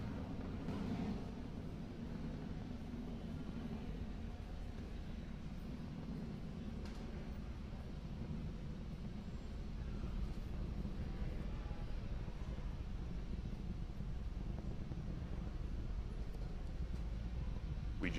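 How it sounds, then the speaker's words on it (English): A SpaceX Falcon 9 rocket carrying the PAZ satellite climbs through the night sky after max Q, producing a steady, distant low roar and rumble that holds without a break. "That Falcon 9 rocket is now throttling back up to full speed as it ascends through the atmosphere."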